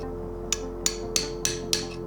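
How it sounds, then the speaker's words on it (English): Five evenly spaced sharp metallic strikes as a hammer drives a chisel-tipped punch against a stuck bolt head during a Mitsubishi 4B11T engine rebuild, each ringing briefly over a low steady hum. "And then you can start hammering it and try to move it in a circle outwards."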